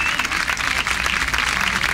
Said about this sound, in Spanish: Y un aplauso de todos ustedes